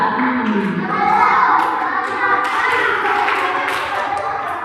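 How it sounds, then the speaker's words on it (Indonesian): A group claps out a rhythmic counted pattern at a Ramadan gathering, with voices over the steady, fairly loud claps. "Jadi sekarang ada tepuk khusus mereka."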